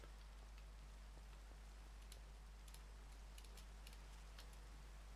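Rain falls at night in the Minecraft video game, a faint, even hiss with light scattered ticks that runs unbroken throughout.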